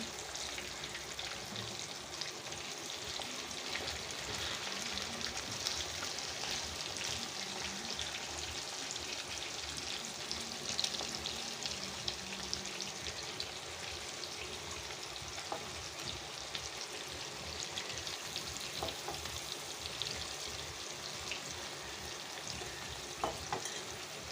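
Pieces of fish laid side by side sizzle steadily in a hot pan in a Kerala home kitchen, a constant close hiss of frying with scattered pops that runs without pause.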